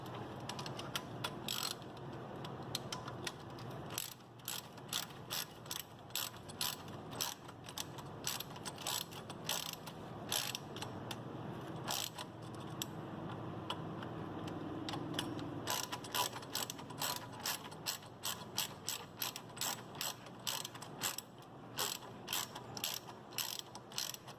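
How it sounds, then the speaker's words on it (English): A ratchet clicks in quick, repeated bursts as bolts are tightened on the rear brake of a Kawasaki KFX450R ATV, close and fairly quiet, with short pauses between strokes. "now you need to get the ratchet and then tighten these"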